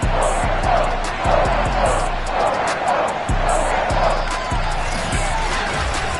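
A sold-out stadium crowd roars steadily in an NFL football video game as the Patriots face the Steelers, with dull rhythmic thumps beneath it and a commentator talking over the din.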